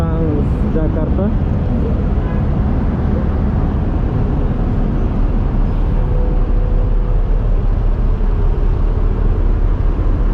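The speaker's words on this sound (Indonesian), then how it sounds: "Bus Trans Jakarta." A TransJakarta bus passes along a street in the Kampung Melayu area of East Jakarta, its engine rumble and road noise loud and steady throughout over dense urban traffic, with people talking nearby.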